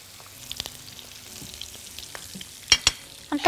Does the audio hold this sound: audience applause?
no